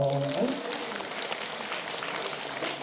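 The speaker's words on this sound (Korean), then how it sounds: "박수 한번 주세요." Audience applause in a KBS Wednesday singing class, a broad steady wash of clapping that follows a brief trailing voice at the start and carries on evenly throughout.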